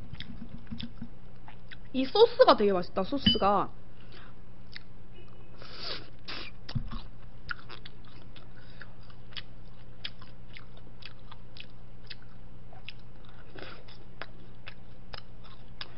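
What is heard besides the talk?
biting and chewing crunchy battered fried food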